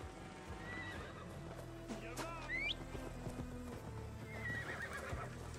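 Horse in the video game Assassin's Creed Valhalla gives a sharp neigh amid clip-clopping hooves and low game ambience, quiet overall.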